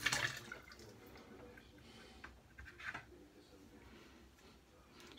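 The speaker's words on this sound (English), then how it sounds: "let's go ahead and let's wet the brush" A synthetic shaving brush is wetted under running water at a sink, with brief splashes and trickles close by, fairly faint, and short bursts at the start and end.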